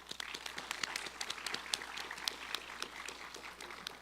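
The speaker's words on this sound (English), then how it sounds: "Let's give one more round of applause to Principal Chief Hoskin." Quiet, fairly distant applause from the audience at a Cherokee ambassador competition event, many hands clapping with crisp individual claps standing out, steady throughout without speech.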